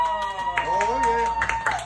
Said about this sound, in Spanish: Un aplauso para Chagüí.